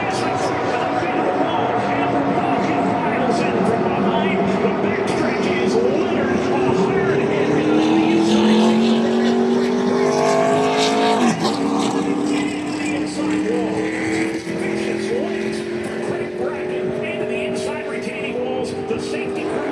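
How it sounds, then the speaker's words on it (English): Race cars at a short oval track roar through turn 2 in a wreck, loud engines sweeping up and down in pitch with a sharp crash-like burst midway, heard from the stands. "That was a scary wreck for Craig Brackett here in turn 2."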